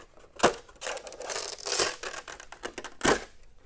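Velcro-attached interior peeled away from a Redcat Monte Carlo Lowrider RC car body, a close, loud ripping and crackling that comes in several bursts, with sharp tearing peaks near the start, in the middle and near the end.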